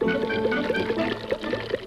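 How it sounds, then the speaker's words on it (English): Water pours and splashes over a rock in a short, gurgling burst with uneven bubbly pulses, close and fairly loud, with no speech. "look what happens when I pour some over this rock"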